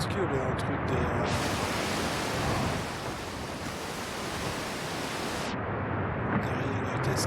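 Waterfall in a video game, a dense broad rushing roar that swells loud for several seconds then eases back to a quieter wash.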